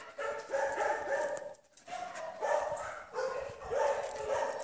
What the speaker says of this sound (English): You can hear all the noise in the background, the dogs inside.